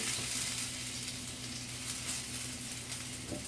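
Something laid into a hot pan of melted butter and olive oil, the way a steak would be, raising a steady, close broadband sizzle that holds evenly throughout with a faint low hum underneath and no talk.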